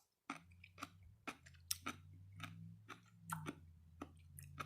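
A crunchy homemade dill pickle being chewed up close, with sharp, wet crunches repeating every half second or so over a steady low hum in the room.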